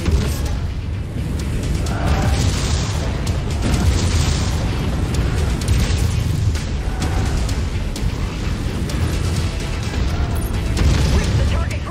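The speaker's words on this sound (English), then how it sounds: "Incoming missile." Incoming missiles explode in MechWarrior 5, heavy booms and rumbling blasts rolling one after another over a constant din of battle and machinery.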